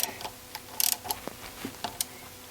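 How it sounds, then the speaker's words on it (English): Torque wrench clicks and ratchet ticks while tightening bolts on the cylinder head of a 2013 BMW 535ix, a sparse series of faint, close, sharp mechanical taps with no talk. "Got my torque wrench,"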